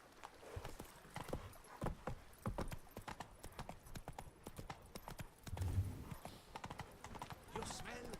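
Horse hooves gallop in The Witcher 3, a fast irregular clip-clop of sharp hoof strikes continuing throughout at a quiet level, with a voice speaking over them.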